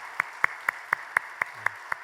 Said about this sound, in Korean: 우리 축하와 격려의 박수 보내주십시오